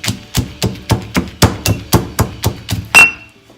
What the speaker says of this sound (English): Next, I'm going to chop up 2 cups of almonds using my mortar and pestle.